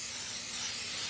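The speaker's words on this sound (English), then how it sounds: "And I will just spray on your cutting board" A steady hissing spray coats a cutting board in a cooking-show kitchen, continuous and close, with no speech over it.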